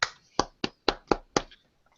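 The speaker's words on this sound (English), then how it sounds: "you're just gonna have to deal with real clapping" Six sharp claps in an uneven rhythm, close and fairly loud, then silence.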